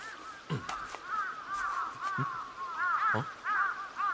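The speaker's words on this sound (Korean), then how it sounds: "웬 까마귀들이 머리 위에서 배가 고픈 모양인가?" Several crows caw overhead in repeated harsh bursts, some loud and near, others overlapping, with a quiet outdoor background between calls.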